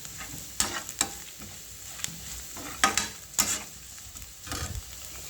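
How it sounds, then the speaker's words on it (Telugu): Thinly sliced potatoes for potato chips stir-fry with onions in a pan. A soft sizzle runs underneath as a utensil scrapes in several sharp, separate strokes close by. "ఉల్లిగడ్డ వేగితే ఆలుగడ్డ వేయాలండి."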